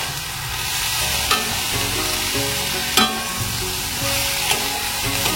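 Grated coconut and sugar stirred together in a hot pan for a taler puli pitha filling, with repeated rhythmic scraping strokes over a steady low sizzle and a few sharp utensil knocks, close and fairly loud.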